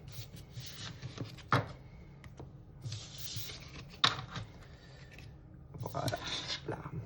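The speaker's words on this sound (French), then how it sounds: "je reprends ces cartes" Tarot cards are gathered up and handled in three bursts of crisp papery rustling and sliding, with a couple of sharp taps, over a low steady hum.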